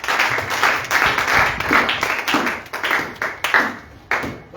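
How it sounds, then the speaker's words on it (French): A church congregation claps together in praise of Jesus during a Pentecost Sunday service, with loud, dense, rhythmic clapping from many hands in a reverberant hall. "Let's clap for the Lord Jesus."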